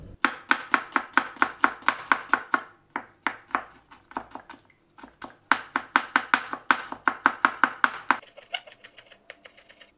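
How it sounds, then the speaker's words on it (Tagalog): Garlic being finely chopped with a knife on a cutting board, a rapid, steady run of close, crisp knife strikes in bursts with a short pause midway, ending in quieter taps. "Hiwain ng pino."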